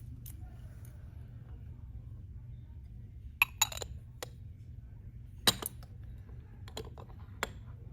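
Sharp, sparse glass clinks as glass wool is pushed into the bottom of a glass funnel for a spinach column chromatography setup, a few isolated taps over a quiet room hum.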